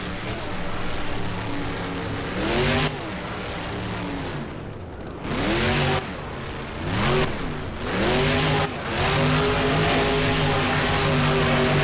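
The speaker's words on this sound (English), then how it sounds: "Starting off the run with a donut here from Spoderman." A monster truck engine in the BeamNG game revs hard while the truck spins a donut, loud roaring bursts that climb and fall repeatedly with brief drops between pulls.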